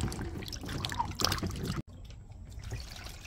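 Cucumbers are washed by hand in a basin of water, with continuous sloshing and trickling splashes close by, a brief gap, then more gentle swishing.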